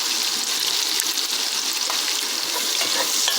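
Garlic and onion fry in a hot pan, giving a loud, steady, close hiss and crackle that stays constant throughout, with no voices.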